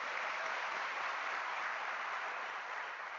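A large crowd applauds graduates at a University of South Africa spring graduation ceremony, a dense, even roar of many hands clapping at once, sustained and fairly distant, easing slightly toward the end.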